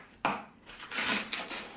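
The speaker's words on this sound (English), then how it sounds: "I'm chopping up some leeks" Knife chopping leeks on a cutting board, a handful of crisp, uneven thuds close by, with no talking.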